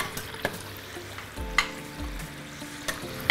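Vegan gluten-free samosas frying in hot oil in a small pot, a steady sizzle with clinks and scrapes as they are stirred gently, close and moderately loud, no talking.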